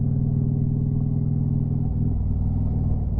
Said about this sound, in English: Oh yeah, you can spin your wheels here.